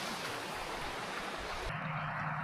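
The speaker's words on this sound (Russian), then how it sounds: "Нашел тут ручей возле дороги." A small stream or spring flows beside a road in hilly Alaskan foothill country, a constant close rush of running water with a brief shift in tone near the end and no voices.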